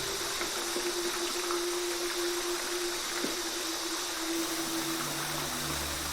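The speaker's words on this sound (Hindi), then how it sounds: "इस बात की तस्दीक पानी के गिरने से जो शोर हो रहा है उससे भी हो जाती है।" Sarad waterfall in Betul, in the Satpura hills, gives off a continuous broadband rush of falling water, steady and unbroken, with a faint low hum underneath.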